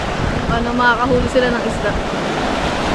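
Waves strike a shore near a cave with a steady, broad roar and wind rush, while people talk over it.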